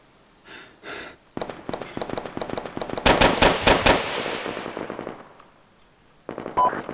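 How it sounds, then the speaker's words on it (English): Rapid bursts of automatic gunfire and single shots from the military video game Arma 3, loud and close, with dense repeated cracks in the middle and a few scattered shots before and after. "I'm just firing at something I saw moving."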